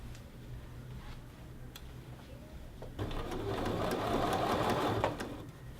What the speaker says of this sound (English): If it helps you when you're edge stitching, you're welcome to use a number 5 foot or number 10 foot